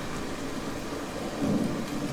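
Heavy rain pounding steadily with a low rumble of thunder underneath, a dense unbroken wash of noise with a slight swell near the end.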